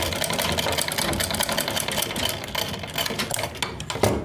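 A sewing machine stitching a sleeve, its needle running in a fast, steady mechanical chatter, loud and close with no talking.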